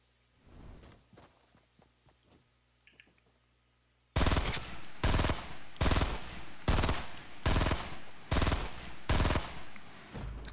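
Rapid bursts of automatic gunfire in the Fortnite video game, starting abruptly after some faint scattered clicks and repeating in loud, evenly spaced volleys.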